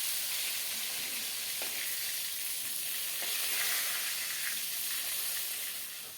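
Eggplant slices frying in mustard oil, a loud, steady hissing sizzle that fills the whole clip, with a few faint spatula scrapes as the slices are turned, easing off slightly at the end.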